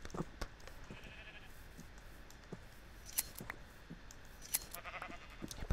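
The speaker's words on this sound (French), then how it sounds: "Il y a pas mal de moutons à laine noire, hein, je trouve." Sheep, some with black wool, bleating in Minecraft 1.7.4 survival play, scattered short bleats near and far over a faint background with clicking sounds.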